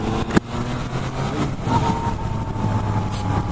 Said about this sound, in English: this bike has a stock exhaust, unlike the FZ-09 that I tested earlier